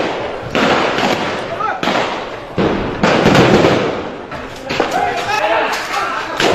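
Rapid gunfire during the 2013 night crackdown on protesters at Shapla Chattar, Motijheel, Dhaka: loud, dense bursts of cracking shots in quick succession, with short pauses between volleys and a background of crowd noise.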